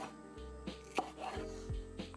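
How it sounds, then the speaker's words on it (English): Knife slicing zucchini stems on a cutting board into short bias-cut penne shapes, a handful of crisp, close chops at uneven intervals against a quiet room hum. "I'm just going to kind of make nice penne cuts."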